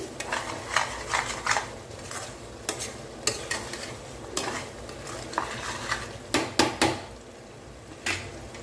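Curry leaf and mint thokku is stirred and sautéed in oil in a pan, with a steady sizzle under repeated scraping spoon strokes and occasional sharper knocks against the metal.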